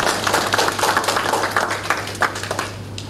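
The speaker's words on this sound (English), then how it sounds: "I think you need to clap for that." An audience claps for a few seconds, a scattered, uneven patter of hands at moderate volume with no voices over it.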